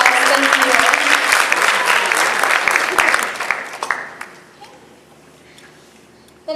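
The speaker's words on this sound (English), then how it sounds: "Can you give them a round of applause?" A county fair pageant audience gives a strong round of applause for the lights and sound crew, loud and dense at first, then fading out into near quiet.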